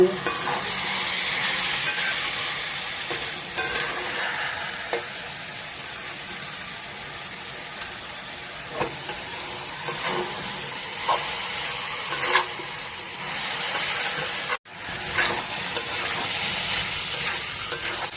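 Potato and cabbage for a mutton keema ghonta stir-frying in a pan, a loud continuous sizzle with repeated scraping stirs and brief clatters, heard close up with no voices.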